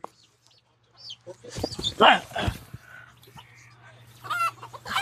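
Backyard chickens cluck in short bursts, close by, while someone talks over them in frustration.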